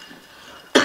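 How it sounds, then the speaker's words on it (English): A single short, harsh cough bursts in at the very end after a faint, quiet background, close and loud. "I had to cough."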